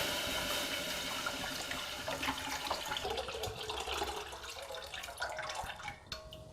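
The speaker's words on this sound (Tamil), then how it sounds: "அதில் வந்து 1 லிட்டர் தண்ணி ஊற்றிக்கணுங்க." One litre of water pours steadily into a pan on the stove, a continuous splashing, gurgling rush that gradually thins out toward the end, close by and without speech.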